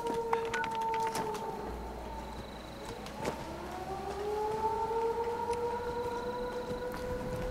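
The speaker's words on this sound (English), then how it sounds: "Listen for the sirens, kids." A civil defense siren wails steadily in Fallout 76, its rising and falling tones sweeping continuously over low background rumble with no talk.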